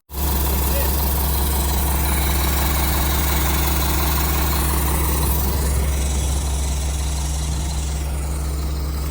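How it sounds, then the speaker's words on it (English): A 1975 Mack FR700 8x4 truck's diesel engine idles steadily and loud with a deep low rumble and constant vibration, plus a hiss of leaking air, running throughout with no talk over it. "It's running nicely there, other than that air leaking."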